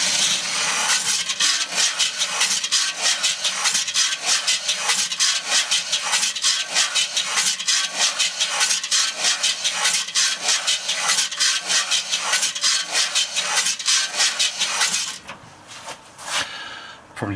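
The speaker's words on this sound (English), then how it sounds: "Probably need to adjust the sheet metal a bit so it doesn't scrape on the edges and make such a horrible noise." Sheet metal scraping against edges in a home foundry gives a loud, harsh, rhythmic rasp that repeats rapidly and steadily for about fifteen seconds, then changes to a rougher, more irregular grinding.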